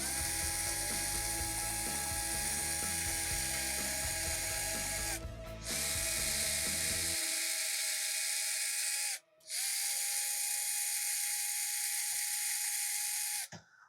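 Unscrewing screws from the back plate of an LRP ZR.32 RC motor, a close, quiet mechanical ratcheting and whirring that runs for several seconds, then stops, leaving a faint steady hum with a short break.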